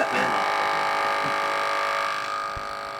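A vacuum sealer runs steadily while packing freshly caught salmon and cod, a close, loud mechanical hum that holds nearly level for about three seconds before easing slightly toward the end.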